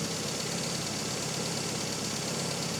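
A car engine idles a little high with a steady, dense mechanical hum and faint ticking, running continuously and close by with no talk, its carburetor in need of replacement.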